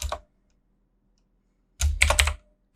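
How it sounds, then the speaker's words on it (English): A computer keyboard being typed on at close range: a short tap at the start, then after a pause a quick cluster of clicking keystrokes, crisp and distinct against silence. "then you just start typing your FAQ"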